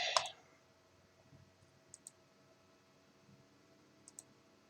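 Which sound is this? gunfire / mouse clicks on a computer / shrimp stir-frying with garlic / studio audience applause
mouse clicks on a computer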